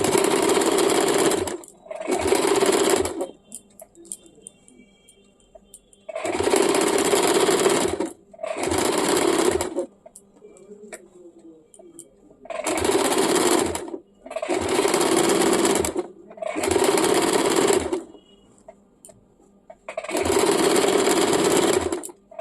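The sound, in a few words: sewing machine stitching a salwar waist belt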